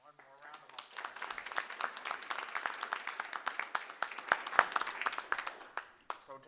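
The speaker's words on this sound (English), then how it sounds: "One more round of applause" An audience gives students a sustained round of applause at a city school board meeting, with dense, steady clapping and no talk.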